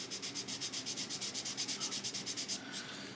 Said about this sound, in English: when you sand down the front face like that